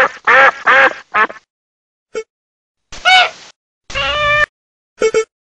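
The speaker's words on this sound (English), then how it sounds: "duck," Farm duck quacking in short loud bursts, several quick quacks in a row with brief pauses between, close up and alone without any talking.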